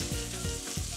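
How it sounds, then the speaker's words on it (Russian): Onion and garlic frying in melted butter in a pan make a steady, close sizzle, with a few soft stirring scrapes and no talk. "Слегка обжариваю."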